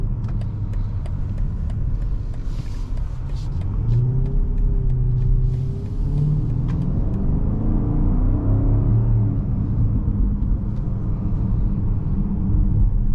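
2024 BMW X5 M60i engine sound played through the cabin speakers during acceleration, a deep steady rumble with a rising tone and road noise, heard from inside the car.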